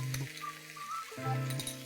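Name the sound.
vegetables stir-fried in Schezwan sauces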